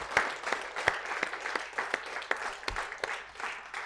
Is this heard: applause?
yes